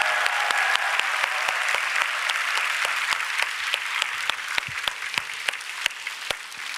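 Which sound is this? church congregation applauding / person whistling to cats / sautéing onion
church congregation applauding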